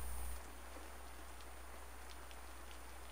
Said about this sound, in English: I can't hear shit over the rain.